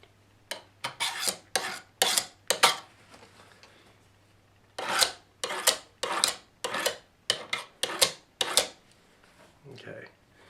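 A knife being sharpened on a Hunter Honer sharpener with a guard fitted, heard as two bursts of quick, near scraping strokes, around a dozen in each, separated by a short pause.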